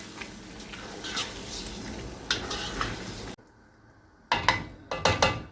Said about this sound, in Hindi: दही डालेंगे, अच्छे से मिक्स कर लेंगे।